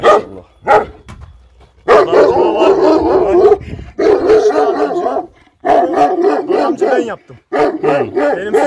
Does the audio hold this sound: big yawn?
no